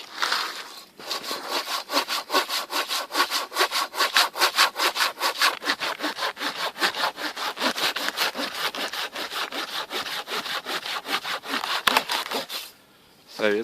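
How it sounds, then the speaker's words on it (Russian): Old Soviet-made hand saw cutting wood outdoors in a snowy winter forest, a close, steady run of rapid rhythmic rasping strokes for about twelve seconds, then a brief pause and one more stroke. "Советская еще пила."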